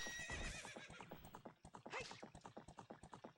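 A horse in the Ocarina of Time video game gives a loud, close whinny, then a regular clip-clop of hooves continues steadily, with no voices over it.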